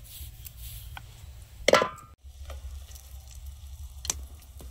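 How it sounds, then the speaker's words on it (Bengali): A radish paratha frying in a pan, a soft crackling sizzle with one sharp hiss from a brief contact or flip, then quiet frying resumes. "একটু কড়া করে ভাজতে হয় মূলোর পরোটাটা।"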